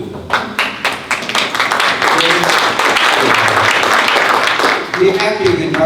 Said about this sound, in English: Have a round of applause for Peter Su.